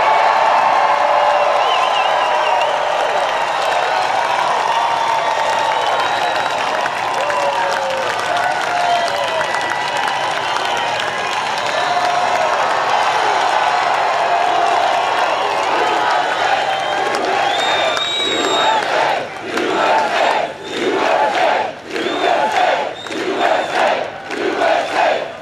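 A large crowd at a Trump campaign rally in North Carolina cheers and roars loudly and continuously, breaking into rhythmic clapping or chanting bursts toward the end.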